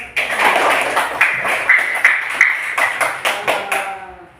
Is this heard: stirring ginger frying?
no